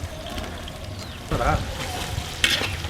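Green chillies and onions fry in a pan for vegetable pulao, giving a steady sizzle with brief bursts of stirring and added ingredients. A voice is faintly present beneath the sizzle.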